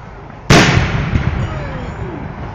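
A fireworks display at Ouseburn Stadium, one loud sudden boom followed by a long crackling, rumbling decay rolling across the open ground, with spectators' voices nearby.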